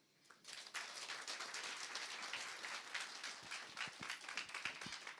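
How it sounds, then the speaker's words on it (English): Steady, dense applause from an audience after a speech at a women banking launch event, sustained clapping that fills the room with a few sharper claps standing out near the end. "Let's give her one more round of applause"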